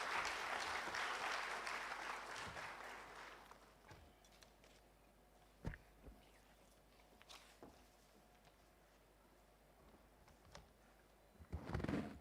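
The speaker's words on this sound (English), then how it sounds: "Could we have a huge round of applause for Madam Chaturvedi, please?" Audience applause for Madam Sujata Chaturvedi, IAS Secretary of Sports, at a formal speaking event, with loud dense clapping for the first few seconds that fades into sparse scattered claps and quiet room noise, ending with a brief renewed burst.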